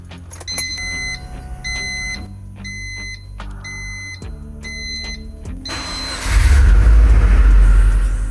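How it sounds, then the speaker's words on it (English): A Subaru WRX with an EJ25 engine is started with the key after a new sensor and battery: a series of repeated electronic chimes and beeps, then the engine cranks and catches, settling into a loud, rough rumble. "The mechanic put in the key and turned. And the car started on the first try."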